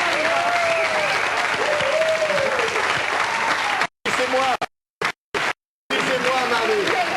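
A studio audience on a French television game show claps in sustained, dense applause, with voices mixed in. The applause breaks off abruptly several times near the end.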